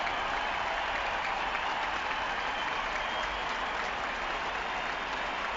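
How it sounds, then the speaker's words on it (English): Football crowd at an AFL match between Essendon and Fremantle applauds a player, sustained loud clapping and cheering filling the whole stretch with no talk over it. "We'll let the crowd speak."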